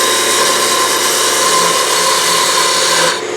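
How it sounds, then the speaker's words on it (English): A wood lathe spins while a parting tool cuts into the turning piece, giving a loud, steady scraping whine that holds evenly for several seconds before cutting off abruptly at the end, with no voices. "using the parting tool"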